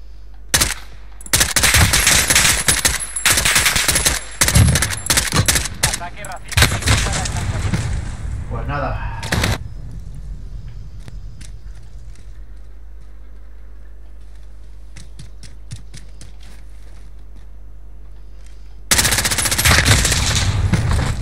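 Gunfire in Call of Duty Modern Warfare: loud rapid bursts of automatic fire for several seconds, then quieter scattered shots and ticking, and a fresh heavy volley at the end, with a voice speaking at times.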